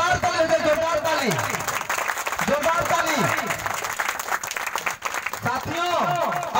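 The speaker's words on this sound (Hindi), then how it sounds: "जोरदार ताली" Loud applause from an audience at a Baba Saheb Ambedkar Jayanti gathering, with a voice speaking over the steady clapping throughout.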